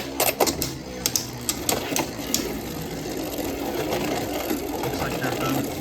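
Custom Beyblade tops spin and clash inside a plastic stadium, with sharp metallic clicks and rattles at the start giving way to a steady whirring grind of both tops circling together.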